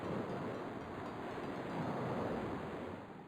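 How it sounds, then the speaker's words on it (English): Ocean surf in the Legend of Kyrandia: Book Two adventure game, a steady washing roar of waves with some windy hiss, fairly quiet and continuous throughout with no speech. "I can hear the ocean."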